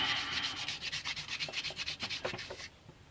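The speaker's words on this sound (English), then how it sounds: "try a scourer, because I've got it handy, and that actually has a bit of fine cutting compound on it, so let's just give that a rub" A scourer loaded with fine cutting compound is rubbed over a plastic car headlight in quick, even back-and-forth strokes, roughly twenty close scratchy passes that stop near the end.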